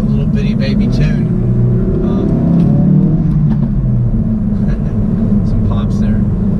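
A 2016 Ford Focus RS with a COBB Accessport tune drones along under steady engine rumble, with a few faint exhaust pops and crackles, while the driver talks over it inside the cabin.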